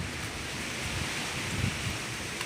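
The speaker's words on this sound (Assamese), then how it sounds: "চাওক ইমান জোৰ বতাহ দিছে বাহিৰৰ পৰিৱেশ" Strong wind gusting outdoors ahead of a storm, a continuous loud roaring rush buffeting the microphone with no voices.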